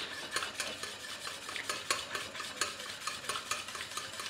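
A spoon scrapes and stirs a sauce aurore in a pan, making a repeated irregular rhythm of scraping strokes over a faint simmer, close and without any talk.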